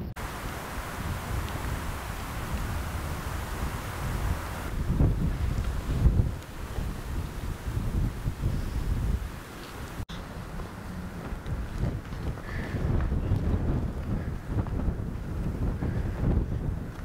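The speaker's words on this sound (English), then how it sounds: "Yeah, it's really windy." Strong, continuous wind gusts on open moorland in the Forest of Bowland buffet the microphone in a dense, rumbling roar that swells and eases throughout, with no voices.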